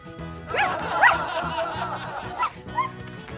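A person playfully imitates a dog's barks during a garden game of Twister, a few yips mixed with chuckling, close and fairly loud.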